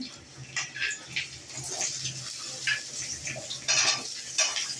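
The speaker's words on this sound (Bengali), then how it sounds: "আলুগুলো ভাজতে দিলাম" Potatoes fry in a pan for a boal fish curry with aubergine, as a soft sizzle runs under repeated clinks and scrapes of a utensil against the pan; nobody talks.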